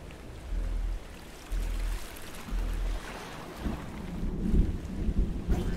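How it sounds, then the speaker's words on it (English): Thunder in the video game The Curse of Grimsey Island rolls as a deep, booming rumble in steady surges, with a rain-like hiss throughout and a heavier crash building toward the end. "But thunder's big bada boom"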